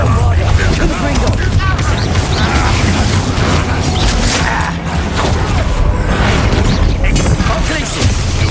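A Confringo fire spell blasts in combat in the video game Hogwarts Legacy, with loud dense crackling bursts and booms filling the whole stretch as a voice shouts spell names.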